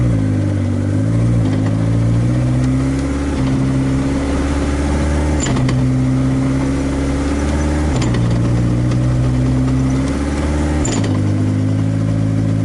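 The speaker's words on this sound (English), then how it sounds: "do up through and downshift into third again." An SRT-4 engine runs steadily and loudly up close on a test, its pitch stepping down and up with each gear change as it is downshifted into third, a continuous drone with no talking.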